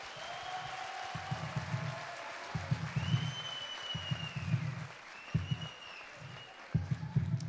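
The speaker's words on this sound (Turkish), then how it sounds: "Bir büyük alkış her ikisine birden." Scattered audience clapping at a Turkish televised singing competition final, greeting two finalists; the applause is moderate and uneven, with some sharper hand claps and thumps among it and a faint tone behind.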